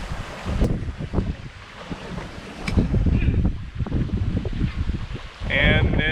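A sailboat runs dead downwind in 17 to 21 knot winds near Jost Van Dyke, with gusting wind buffeting and water sloshing past the hull in uneven surges, close and fairly loud, with voices faintly mixed in.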